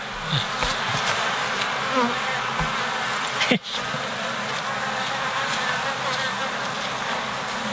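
Honeybees buzz in a dense, continuous drone from an opened beehive, with an occasional bee passing close by, while a person talks intermittently over the swarm.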